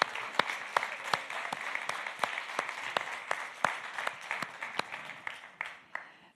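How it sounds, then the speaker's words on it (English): Conference audience applauding the speakers of speed dating rounds: steady dense clapping with sharp individual claps standing out, moderately distant and continuing for several seconds, with no talk over it. "can we get a huge round of applause for all the speakers during the speed dating rounds?"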